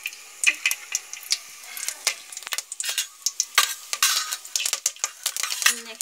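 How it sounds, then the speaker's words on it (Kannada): Curry leaves are dropped into hot oil in a pan while cooking veg fried rice, giving a steady crackle and sizzle under repeated close metal stirring and scraping, with no talking. "ಕರಿಬೇವು ಹಾಕ್ತಿದ್ದೀನಿ"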